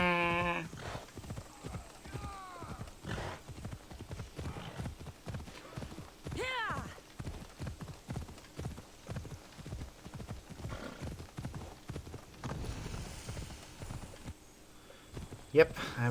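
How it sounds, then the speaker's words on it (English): Horse hooves clip-clopping at a steady gallop in Assassin's Creed Odyssey, a fast rhythmic pounding with a brief whinny early on and someone talking over the ride at times. "Let's go. Our horse will get us there."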